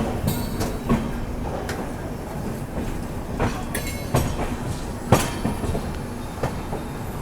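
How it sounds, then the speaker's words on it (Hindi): The Pune Nagpur Humsafar Express rolls past a platform at Nagpur Junction with a continuous rumble of wheels, clicking rail joints and sharp metallic squeals and clanks scattered through the passage, loud and close. "पुणे नागपुर हमसफर एक्सप्रेस।"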